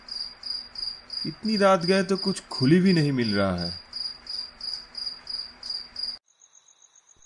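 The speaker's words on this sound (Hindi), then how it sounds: "झींगुरों की आवाज कानों को चुभ रही थी।" Crickets chirp at night on a rural village road, a steady pulsing trill that runs throughout and stops abruptly near the end, with someone speaking briefly over it partway through.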